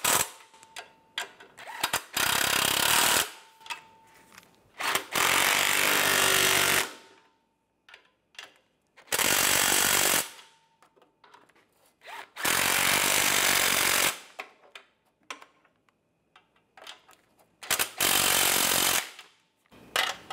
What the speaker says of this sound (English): Make sure the flange is lined up and tighten those down.